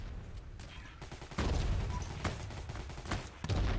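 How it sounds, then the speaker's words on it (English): Video game gunfire, repeated shots and bursts in a busy, dense mix of loud bangs, with a voice briefly heard over the battle noise. "Shots, mate, shots."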